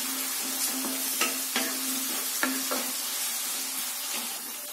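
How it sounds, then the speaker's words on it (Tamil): Eggplant sautéing with onion and tomato in a pan for a Chettinad chickpea kulambu: a steady, close sizzle with several sharp spatula knocks and scrapes at uneven intervals. No voices. "கத்திரிக்காய் உள்ள சேர்த்துட்டு கத்திரிக்காய் நல்லா சுருண்டு வர அளவுக்கு வதக்கிடுங்க."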